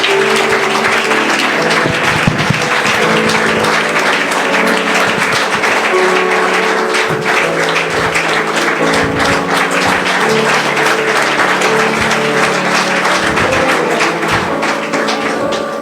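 Sustained, dense applause from an audience at a Foundation Day celebration, loud and even throughout, with many hands clapping together and no talking on top.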